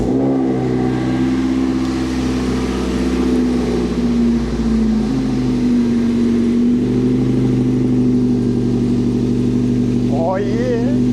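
A Toyota MR2 engine with its exhaust removed runs loud and raw, its pitch rising and falling through several revs and settling back, a harsh close-up drone with no talk.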